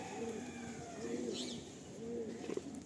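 A female Kolkata old-line Giribaj pigeon coos close by in three evenly spaced phrases, each a soft rising and falling call, over a quiet background with a few small rustles near the end.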